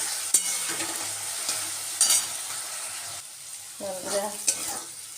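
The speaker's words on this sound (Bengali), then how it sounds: "ভাজাটা দিয়ে দিলাম কিছুটা ক্যাপসিকাম ক্যাপসিকাম আর কাঁচা লঙ্কা" Chopped vegetables with capsicum and green chilli sizzle in a pan while being stirred. Sharp scrapes and clatters cut through the close, steady frying hiss, and a brief voice is heard partway.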